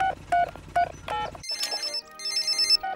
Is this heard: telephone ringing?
yes